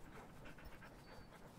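Sled dogs in the video game The Red Lantern pant steadily at rest, a continuous breathy rhythm of quick huffs filling the whole short stretch at moderate level.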